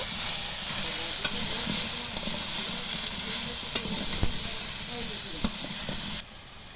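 Drumsticks sautéing with salt and turmeric in a pan for a mustard-based dish, a steady sizzle under repeated scraping strokes of a spatula, fairly close, the frying dropping off sharply at the end.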